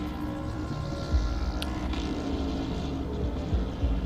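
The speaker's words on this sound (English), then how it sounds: "You can hear the echoes of some of these GT3 engines." GT3 race cars during free practice at Spa in a racing sim game, their engines a steady, dense low drone with echoing layers throughout, a few louder swells as cars pass nearer.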